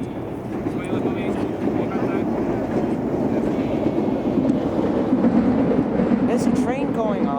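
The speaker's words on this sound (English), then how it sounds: "There's a train going up." A train runs on the rail line from Edinburgh Waverley toward the Forth Bridges, heard as a steady, dense rumble and clatter that holds throughout at close range, with a person talking over it.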